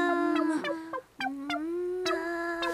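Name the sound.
person imitating a chicken clucking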